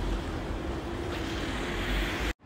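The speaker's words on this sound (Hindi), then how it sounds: "पानी की मुझे अभी से आवाज़ आ रही है मेरे को, है ना।" Steady rushing water at the Trevi Fountain in Rome, a dense continuous roar mixed with wind buffeting the microphone, ending abruptly.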